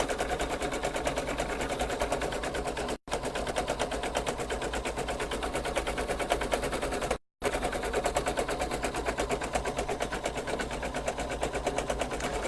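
Embroidery machine stitching a design on a bag: a loud, fast, steady mechanical chatter close by, running continuously apart from two brief stops.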